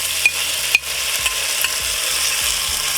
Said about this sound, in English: So we are frying the beans just a little bit